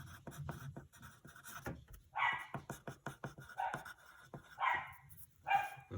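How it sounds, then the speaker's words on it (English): Several dogs bark in the background in repeated short bursts, about four loud barks spread over a few seconds with quieter movement noise in between. "I apologize for the dogs barking in the background."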